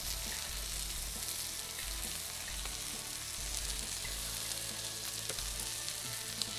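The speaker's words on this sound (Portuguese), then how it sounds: "E vou aproveitar aqui e vou dourar elas junto com a picanha." Sliced onions browning alongside picanha in a hot pan give a steady, dense sizzle and crackle, continuous and close with no voices.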